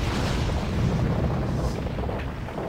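A deep, rumbling explosion in the action game Asura's Wrath, a broad sustained boom filling the whole clip at moderate loudness with no speech over it.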